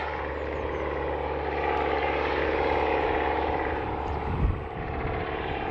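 A steady, droning tractor engine rumbles continuously at moderate distance, holding an even tone with a slight swell midway and no voices.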